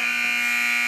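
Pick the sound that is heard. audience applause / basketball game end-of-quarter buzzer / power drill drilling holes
basketball game end-of-quarter buzzer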